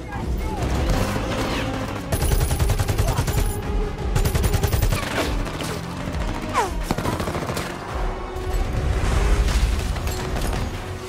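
Rapid bursts of gunfire rattle amid roaring engines and crashes in a frantic action-film chase, loud and dense with repeated volleys.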